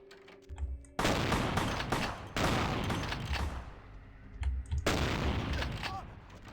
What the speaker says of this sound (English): let us pull out the big guns, since we've got 42 shots